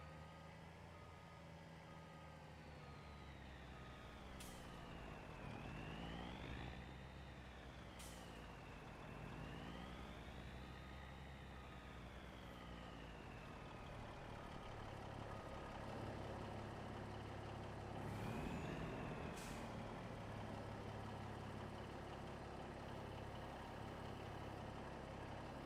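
A truck in Farming Simulator 25 reversing with a steady electronic reversing beep over a droning engine, with bursts of air brake hiss, continuous and fairly loud, no talk.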